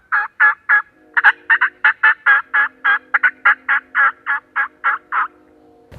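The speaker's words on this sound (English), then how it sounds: "then we heard him gobble" A wild turkey gobbles in a long, rapid series of loud, close calls, with one brief pause in the run.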